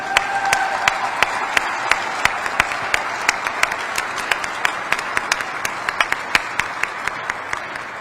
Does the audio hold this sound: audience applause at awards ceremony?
yes